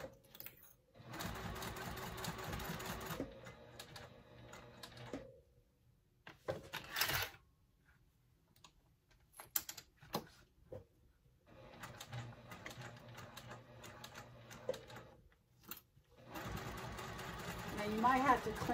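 Several bursts of a sewing machine topstitching a tote bag, separated by pauses filled with brief clicks and handling noise, the stitching rattling close and steady in each run.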